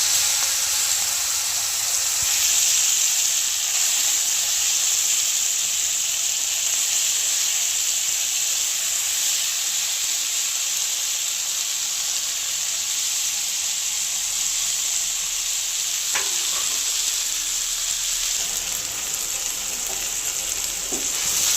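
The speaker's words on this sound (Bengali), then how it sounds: "এবার মাছগুলো দিয়ে দেবো।" Small kachki fish frying in hot oil with black cumin in a kadai, a steady, close, bright sizzle that hisses continuously with a brief clink of utensils partway through and no talking.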